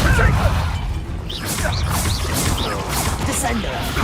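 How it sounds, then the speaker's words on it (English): Depulso spell cast in the video game Hogwarts Legacy: a busy burst of mechanical clatter, thwacks and whooshing swishes over a dense rumbling game soundtrack, with voices mixed in. "Depulso!"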